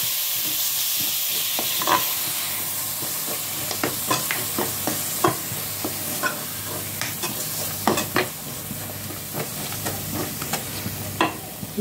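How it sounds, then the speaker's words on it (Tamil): Ground coconut and cumin fry in a masala for vendakkai puli kulambu, an okra tamarind curry, with a continuous soft sizzle and repeated scraping clicks of a spoon stirring the pan. "சேர்த்துட்டு இது ஒரு 2 நிமிஷம் பொரிய விட்டுக்கலாம்."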